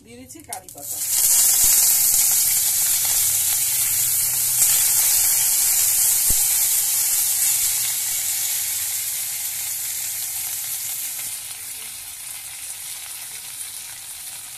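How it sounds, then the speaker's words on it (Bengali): Curry leaves dropped onto mustard seeds in hot oil burst into a loud spitting sizzle that hits almost at once, then holds steady and slowly eases off, with an occasional stir. "সর্ষেটা ভাজা হয়ে গেছে। এবার আমি দিয়ে দিচ্ছি কারি পাতা"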